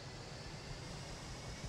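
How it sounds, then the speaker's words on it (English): Helicopter engine in the game BattleBit: a steady, loud whooshing roar with a low rumbling drone, constant and close throughout with no voices over it. "I'm getting in this helicopter."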